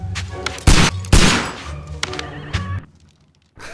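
Heavy gunshots boom in the video game Sherlock Holmes: Crimes and Punishment, two loud close blasts with thudding impacts and a few softer knocks before a sudden near silence.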